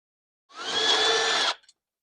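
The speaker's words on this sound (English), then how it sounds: "I think I'm gonna drill them holes out bigger" A power drill enlarges holes during an install on a car, with one steady high whine lasting about a second, close and loud, followed by a couple of brief blips as the trigger is released.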